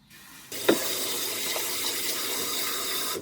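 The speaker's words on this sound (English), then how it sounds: "You can pour your seeds in the bowl, just like this, and then you can fill the bowl with water." Tap water runs into a regular bowl of pumpkin seeds, a steady close splashing hiss that starts abruptly and continues throughout, with a small clunk near the start.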